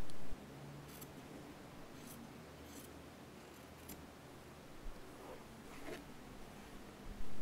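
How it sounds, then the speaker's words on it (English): Scissors snipping excess fabric and pointed corners while making a sewn sailor bow, a few soft, scattered snips in a quiet room. "For a clean finish, snip off the pointed corners at the diagonals."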